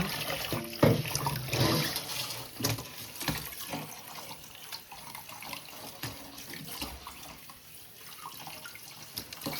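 Running water splashes in a sink as raw prawns are rinsed, with soft handling noises and faint clinks.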